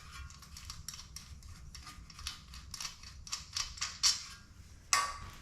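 Small metal screws being worked loose from the carburetor-to-manifold joint on a 2021 Yamaha TTR50 motorcycle, giving a close run of faint ticking, clicking scrapes with a couple of sharper metallic clinks near the end.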